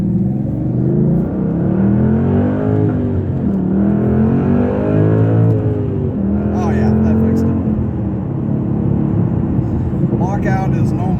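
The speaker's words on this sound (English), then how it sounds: "I can actually rev this thing out" The engine of a Ford Mustang with an MT-82 six-speed manual is revved up and down several times, its pitch rising and falling in repeated sweeps. The sound is loud and close, with some light clatter and someone speaking near the end.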